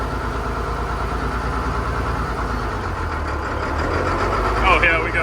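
An International 766 tractor engine runs in third gear with a steady low rumble and drone, fairly close, swelling slightly near the end as throttle increases.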